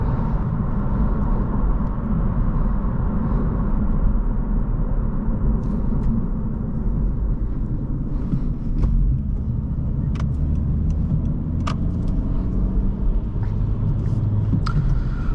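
A 2023 Honda Civic Si accelerates hard along a road, heard from inside the cabin as a steady loud engine drone with road rumble, a few faint clicks and no talking.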